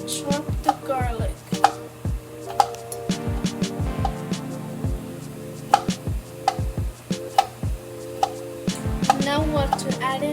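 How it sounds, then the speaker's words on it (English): Garlic being chopped with a kitchen knife on a board while making classic lasagna: a quick run of sharp, close knocks in irregular bursts, with a steady hum underneath. "Time to chop the garlic."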